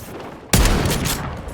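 A single loud, close shotgun blast in Call of Duty Warzone, a sharp booming report that hangs with a short, noisy decay.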